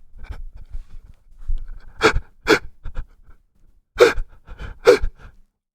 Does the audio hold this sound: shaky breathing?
yes